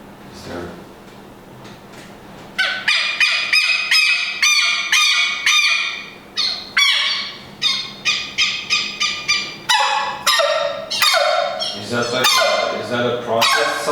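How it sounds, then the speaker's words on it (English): A bird call recorded in Uruguay, used as a lead sound in a track: loud, rapid repeated honking, goose-like calls in fast bursts that start abruptly after a quiet opening and continue steadily to the end. "the lead sound, which is like a bird sound I recorded in Uruguay"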